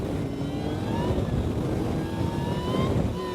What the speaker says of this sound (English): This is 4th gear.